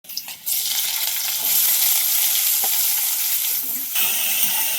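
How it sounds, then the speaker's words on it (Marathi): Grated garlic fries in a pan with a steady, hissing sizzle that continues for several seconds after a brief clatter at the start, with occasional stirring noises and no speech. "यात लसूण टाकलं किसून थोडासा. तरी आता भाजून घेते."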